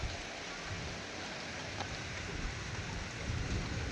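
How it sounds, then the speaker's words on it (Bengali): Heavy rain falls steadily in a dense, even wash, with a low rumble of thunder rolling underneath, loud and enveloping throughout. "এখান থেকে পুরো বৃষ্টিটাই হচ্ছে। আর দেখো কত বৃষ্টি হচ্ছে।"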